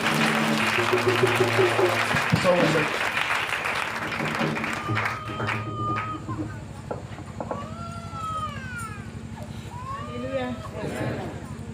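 A church congregation applauds at a revival evening service, loud dense clapping at the start that gives way to cheering voices and sung or chanted tones through the rest.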